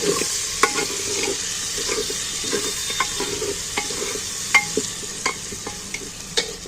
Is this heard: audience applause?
no